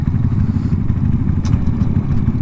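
A small Honda Monkey motorcycle rumbles steadily up close while being ridden, its low engine drone continuous and loud with faint rattling on top and no talk.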